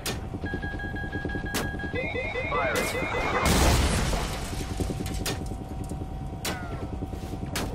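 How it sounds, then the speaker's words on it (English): Missiles launch from an aircraft in Call of Duty: Ghosts, with a burst of whooshing roar peaking midway over steady engine drone, beeping lock tones and sharp clicks, while voices talk over the action. "Firing missiles."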